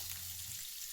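Potato pieces frying in a pan, cooked until reddish for sago fry with winter vegetables; a steady, dense sizzle of hot oil runs throughout at close range, with no voices.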